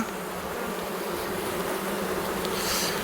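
Black honey bees buzz steadily at an opened hive during a colony visit, a dense continuous drone of many insects close by with no talk.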